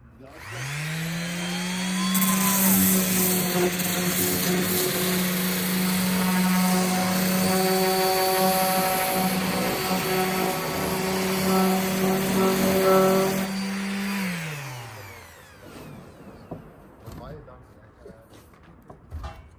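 A power tool cuts through the beams of a Lamborghini, its motor whining up to a high, sustained pitch, holding loud and steady for about twelve seconds, then winding down, with voices afterward.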